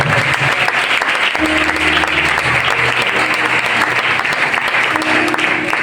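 Church congregation applauding loudly and continuously, a dense wash of clapping with a few voices and a tonal hum mixed in beneath.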